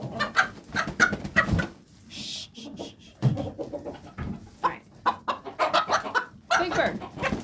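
An agitated Silkie hen in a drafty barn clucks and squawks in restless, uneven bursts close to the listener, with a person talking intermittently nearby.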